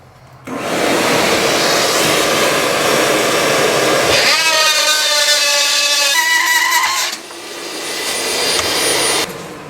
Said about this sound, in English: we got the template cut out with the Dremel tool